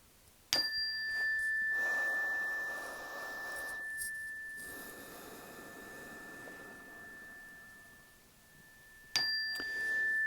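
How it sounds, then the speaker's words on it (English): Meditation chimes strike clearly twice, each ringing into a long, pure, sustained tone that fades slowly, with a soft airy hush between the strikes. "we'll kind of roll with the chimes."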